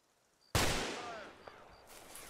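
Gunfire from a military shooter game, ArmA 2: Operation Arrowhead, starts abruptly as one loud close burst and then decays with a long echoing tail, followed by faint later noises.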